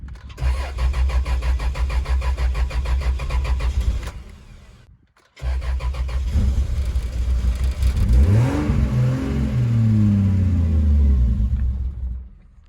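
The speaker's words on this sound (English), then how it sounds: "I have to use my foot barely on the gas to get it to start." A Jeep with a swapped Toyota 2JZ engine and no idle air control cranks with a rapid starter whir, stops briefly, cranks again, then catches and settles into a loud, slightly fluctuating idle.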